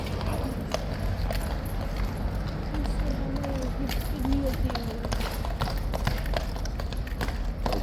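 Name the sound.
horse hooves clip-clopping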